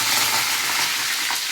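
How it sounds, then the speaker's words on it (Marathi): Cumin and mustard seeds sizzling as a tempering in hot oil in a wok for Solapuri stuffed brinjal, a dense continuous hiss and crackle, close and loud with no voices. "आता कढईत जिरे मोहरी टाकून फोडणी देऊन"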